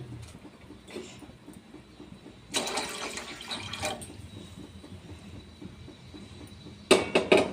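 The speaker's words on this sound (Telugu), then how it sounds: "వాటర్ వేయాలి." Water splashes into a pot in a couple of short pours, with a final brief gush near the end, close by and otherwise quiet.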